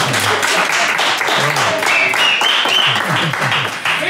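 Audience applause at a comedy-style evening event fills the whole stretch with dense, steady clapping, loud and continuous, with a voice speaking over it.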